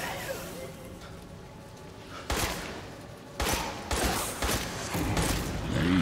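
Gunshots from the survival horror game Resident Evil Village ring out in loud separate bursts, a handful of sharp cracks spaced about a second apart after a quieter stretch of ambient noise.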